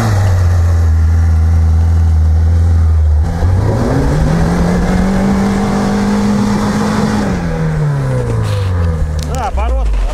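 Lada Niva 4x4 on mud tyres: a steady low engine drone rises into a sustained rev, holds at higher pitch, then drops back, loud and close, with people talking over it.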